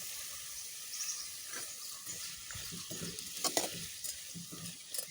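Chopped capsicum and raw jackfruit sauté in oil in a pan, giving a steady sizzle broken by scraping stirring strokes, close and fairly quiet, with no talking.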